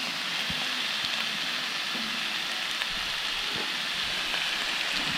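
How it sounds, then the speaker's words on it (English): Chicken sizzles on a Blackstone griddle at a camp cookout, a steady, close hiss and crackle with occasional soft knocks and pops underneath. "Hear that sound? That's the sound of chicken."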